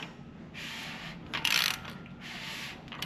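A ratchet wrench turning over a 6.0 LS engine, heard close with repeated clicking pawl runs in a few separated bursts, alone without talk.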